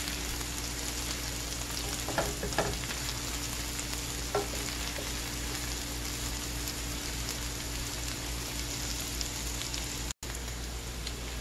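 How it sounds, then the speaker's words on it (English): Onions caramelize in a pot for a meatless one-pot meal, giving a faint, steady sizzle and soft frying crackle with a few light stirring clicks; quiet throughout with no talking. "we're going to let those onions just caramelize a little bit"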